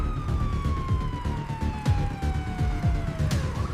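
A police car siren wails steadily and loudly behind a moving motorbike, its tone sliding slowly downward over a rumbling engine and road noise, with no talk.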